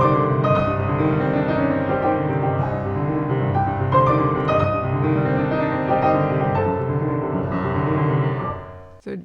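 Fast, dense piano passage from Chopin's Revolutionary Etude Op. 10 No. 12, its main theme played over churning left-hand runs, loud and continuous, close and without any voices.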